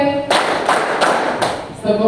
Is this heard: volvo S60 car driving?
no